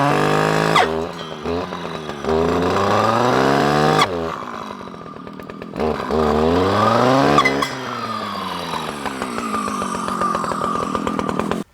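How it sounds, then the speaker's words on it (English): A small brush cutter cuts through a fairly thick tree on an overgrown homestead, its two-stroke engine loud and close, repeatedly revving up to a high whine, bogging down in the wood and dropping back to idle. "that little brush cutter made short work of that, even a thicker tree such as that"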